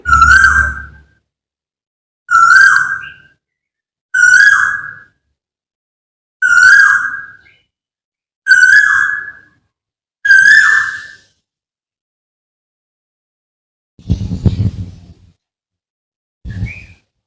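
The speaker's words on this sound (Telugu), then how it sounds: "బర్డ్స్ సౌండ్స్ ఇనిపిస్తా ఉన్నాయి" A bird calls loudly and close by in the early morning outdoors, one clear whistled note repeated six times at even intervals, followed by a couple of rougher sounds amid silence.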